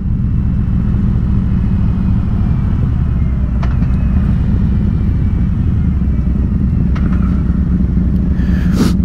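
Harley-Davidson Sportster Iron 883 motorcycle riding on an open road, its engine a steady loud rumble with rushing wind throughout, a few faint clicks and knocks breaking in briefly.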